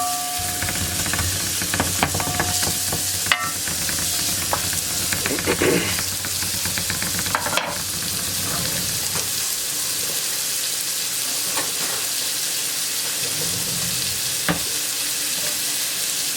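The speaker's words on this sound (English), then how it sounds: "now I'm going to add my onion. I'm going to saute that and get it a little clarified." Chopped onion sautéing in a pan for chicken paprikash, a continuous hissing sizzle with occasional stirring scrapes and clicks, fairly close and steady throughout.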